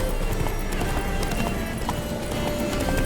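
Horse hooves gallop in The Witcher video game, a steady loud clip-clop rhythm at full speed under a busy layer of game ambience and music, with a brief whinny in the mix.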